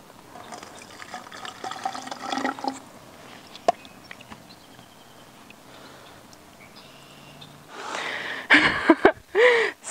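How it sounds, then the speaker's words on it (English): Water is poured into a tube filled with porous pumice rock, giving trickling and gurgling, with quieter handling sounds first and then louder splashing and bubbling at the end. "watch what happens when we pour the water in"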